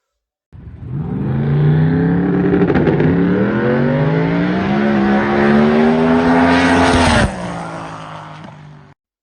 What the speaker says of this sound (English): Another good consistent run there, and sounded like it hit the rev limiter at the top end.